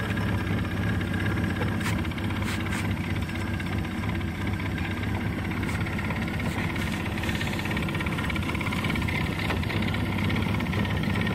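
A fishing boat's motor idles nearby on a catfish fishing trip, giving a steady, even low rumble that holds unchanged throughout with no talking over it.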